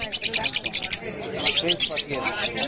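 Cockatiels chirp and call repeatedly at a busy animal and bird market in Barrackpore, bright bursts of song carrying over a crowd with people talking nearby.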